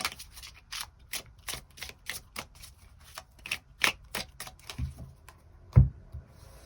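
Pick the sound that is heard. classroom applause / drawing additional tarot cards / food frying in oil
drawing additional tarot cards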